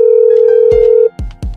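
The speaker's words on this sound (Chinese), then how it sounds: "报警电话都打不通了" A steady telephone tone sounds on an emergency police call that fails to connect. It holds loud and unbroken for about a second, then cuts off and is followed by a couple of sharp knocks or clicks.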